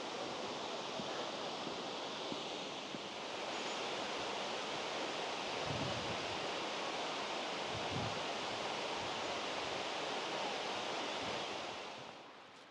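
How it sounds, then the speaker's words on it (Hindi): Birthi waterfall in the mountains at Munsiyari, a steady broadband roar of falling water heard from a distance, continuous and even throughout with a little wind on the microphone. "वो सामने वाटरफॉल।"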